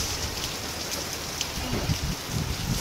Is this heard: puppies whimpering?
no